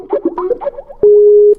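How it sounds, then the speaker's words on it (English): Skype call tones on a computer: a run of short electronic chirps and blips, then a single loud sustained tone of about half a second, fairly close with no speech. "Do you hear that? That's what my Skype's like."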